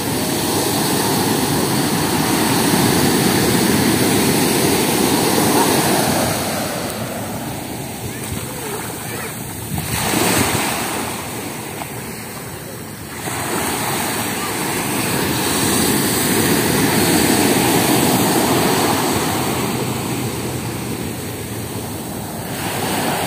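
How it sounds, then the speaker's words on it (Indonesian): Big ocean waves at Padang beach in West Sumatra, a loud continuous roar of surf with swelling and easing crashes and some wind buffeting on the microphone. "Ombaknya gede banget."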